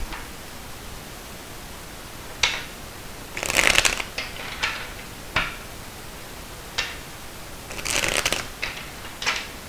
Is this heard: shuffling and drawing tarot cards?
yes